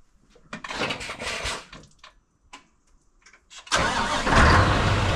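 A Scania V8 truck engine is cranked, with a few scattered clunks and stirrings before it catches with a sudden loud roar and settles into a heavy, rumbling idle.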